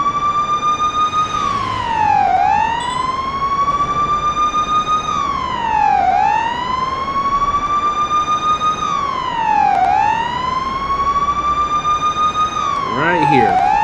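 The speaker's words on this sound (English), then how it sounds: "So let me turn on my lights and sirens, and we're going to an accident" Police car siren in a driving simulator game, a loud continuous wail rising and falling in long sweeps, close and steady throughout with a brief change at the end.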